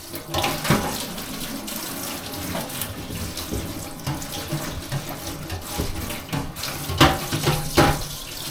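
A Maxxfan roof vent part from a camper van is rinsed under a running tap, with steady splashing water throughout and a few louder splashes near the end. No one speaks.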